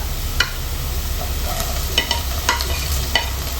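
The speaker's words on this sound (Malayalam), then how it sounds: "ഇതൊന്ന് സോട്ട് ചെയ്തിട്ട് അതിലേക്ക് നമുക്ക് ക്യാപ്സിക്കം ആഡ് ചെയ്ത് കൊടുക്കാം." Chopped green capsicum being sautéed in a pan with ginger, a steady low sizzle with several sharp spatula scrapes and knocks against the pan at irregular intervals, close and alone.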